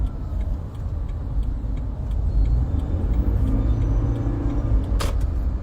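Steady low road rumble of a car engine in traffic, loud and close, with other vehicles passing and a brief hiss like an air brake near the end; no talking.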